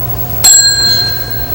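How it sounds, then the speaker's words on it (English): Bell struck to open a boxing round: one loud, sharp clang that rings on with a bright, sustained tone and slowly fades. "when the gong sounds, move to the center of the ring and come out fighting"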